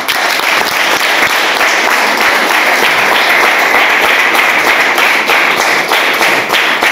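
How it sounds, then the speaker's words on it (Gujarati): An audience in a Gujarati Christian church gathering claps in a steady, dense round of applause welcoming the bishop, sustained and fairly loud throughout with no talk over it. "ત્યારે ફરી આપણે તેઓને તાળીથી સ્વાગત કરીશું"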